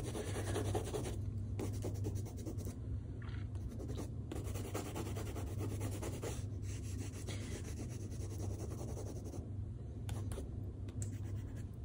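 Loose, scratchy colouring strokes on altered sketchbook paper, a steady close rubbing and scraping texture that continues without a break, fairly quiet, with no voices.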